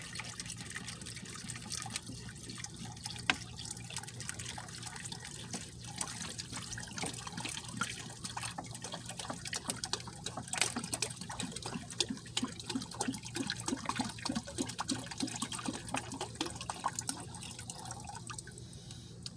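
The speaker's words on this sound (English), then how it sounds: "You're going to add our water." Water pours into a plastic bag over a sink, a continuous close trickling and splashing with scattered drips and gurgles that keeps going steadily throughout.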